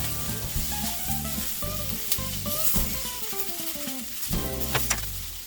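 Tomatoes sizzling in a hot pan for a vegan saltfish and cabbage dish, a steady close frying hiss with stirring, under a louder musical background.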